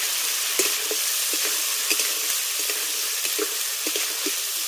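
Live singhi fish frying and being stirred with spices in a pan, a steady close sizzle broken by repeated scraping and stirring knocks, with no voices.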